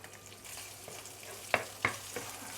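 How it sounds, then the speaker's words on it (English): Roast pork and char siu reheating in a pan give a soft, steady sizzle, broken by a few sharp scraping or tossing clicks near the end. "I'm just quickly going to heat up my roast pork, yeah, and also char siu."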